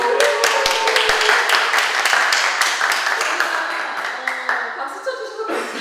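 An audience in a church meeting room with soldiers claps in a dense burst that gradually thins and fades over several seconds, with a few louder individual claps and some background voices.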